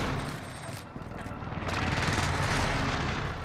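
Gunfire in Call of Duty: Modern Warfare, a rapid fusillade of shots rising to a denser, louder burst toward the end, somewhat distant and busy.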